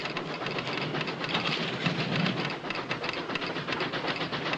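A train pulls into a station in a 1948 film, its dense rumbling, hissing and rhythmic rail clatter sustained and fairly loud, with no talking.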